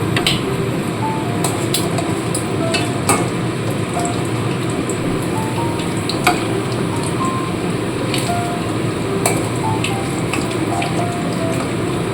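Fritters made from fish oil fry in a deep pool of oil, giving a loud, dense, continuous bubbling roar with faint sharp crackles scattered on top.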